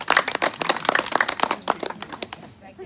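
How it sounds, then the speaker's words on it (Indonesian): A small crowd gives brief, scattered applause at a community event, with uneven claps that thin out after a couple of seconds. "Tepuk tangan dulu."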